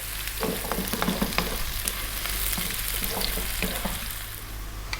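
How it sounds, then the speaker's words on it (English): Onions frying in a pan for a Punjabi bone-in lamb curry, a steady close sizzle with scattered crackles and the odd stir, alone without talk. "we really do need to cook the onions until they change color"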